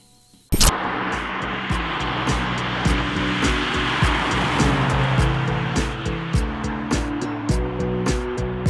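A Mercedes SL350 R231 with a naturally aspirated engine starts up abruptly and drives on, a steady engine drone with wind and road rush and shifting tones as it accelerates.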